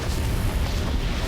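A Confringo blasting curse explodes in Harry Potter Magic Awakened, a dense, sustained rumbling roar that fills the whole stretch at steady loudness, with no distinct onset.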